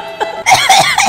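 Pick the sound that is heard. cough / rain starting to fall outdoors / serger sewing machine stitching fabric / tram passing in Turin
cough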